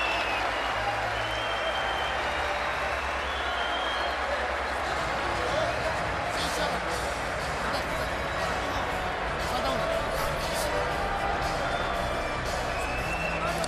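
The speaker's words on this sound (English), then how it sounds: "Crowd roars." Boxing arena crowd at a Matthysse vs Provodnikov fight roaring and applauding in a dense, sustained wash of noise, with broadcast commentary talking over it.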